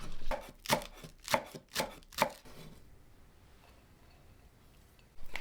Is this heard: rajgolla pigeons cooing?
no